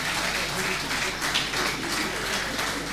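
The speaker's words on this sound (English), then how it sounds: "A round of applause for them." An audience in an auditorium at an Army War College Nigeria alumni association inauguration ceremony claps in a sustained, dense round of applause lasting the whole moment.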